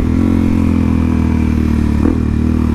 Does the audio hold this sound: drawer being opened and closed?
no